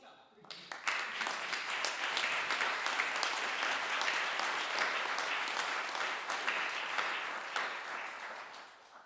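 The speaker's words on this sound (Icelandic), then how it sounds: "við skulum biðja að standa upp og gefa henni gott klapp" An audience at a piano competition award ceremony breaks into sustained applause, dense rapid clapping that swells within a second, holds steady for several seconds, then gradually fades.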